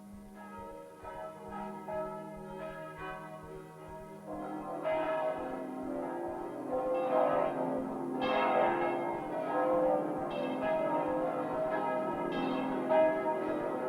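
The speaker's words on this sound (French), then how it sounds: "les cloches de l'armistice" Church bells ring for the armistice, one bell tolling at first and then a fuller peal of overlapping strokes that keeps ringing at a moderate distance.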